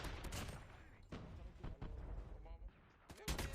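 Rapid bursts of gunfire in a competitive battle-royale match, sharp repeated cracks over game ambience with a player's voice talking over the shots.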